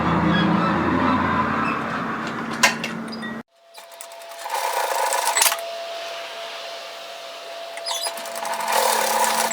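A sewing machine runs a 1 cm hem on the ends of a fused, folded welt piece for a knit teddy jacket, giving a steady, fairly loud mechanical whir with a brief break partway through.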